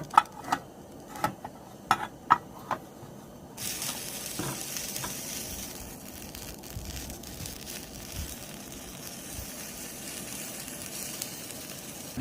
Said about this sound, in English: I'm hearing sizzling, I'm smelling good smells from the pan